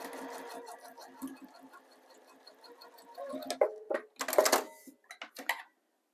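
A sewing machine stitches a zipper pouch with a quiet, even whirr for a few seconds, then stops, followed by scattered handling clicks and rustles of fabric.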